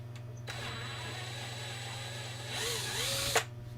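A power drill bores out a tumbler cup, whirring steadily over a low hum, then rising in pitch and bogging under load near the end before stopping abruptly.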